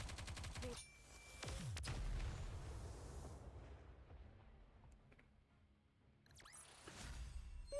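Gunfire in the video game Nikke, with a fast burst of sharp shots followed by a heavy booming blast that fades into a faint rumble, then a few more shots near the end.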